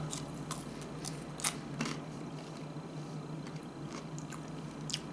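Someone chews a ketchup-dipped French fry, soft wet mouth sounds with a few faint crunchy bites spread unevenly over several seconds, close to the ear and quiet.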